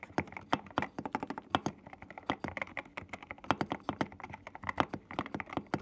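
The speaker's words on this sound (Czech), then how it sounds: "Teď si dáme vedle sebe obě dvě klávesnice a zkusíme zvukový test." Steady typing on an AKKO mechanical keyboard fitted with Mountain Seclusion switches, a dense run of soft, close keystroke clacks with no voices.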